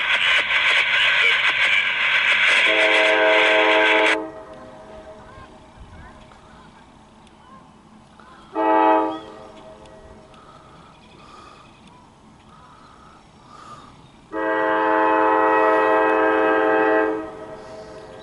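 A CSX mixed freight train passes while its horn blows loud and near in long blasts, a short honk mid-way, then another long blast, over steady rumbling rail noise.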